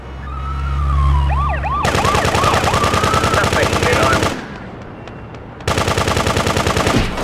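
Rapid, loud machine gun fire from the top-down video game GTA 2, rattling in a steady stream, briefly pausing, then resuming, with a wailing police siren sweeping over the start.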